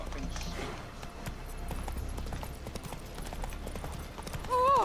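Horse hooves clip-clopping at a gallop in the Witcher 3 video game, a steady rhythmic beat close by under in-game music and voices, ending with a short whinny.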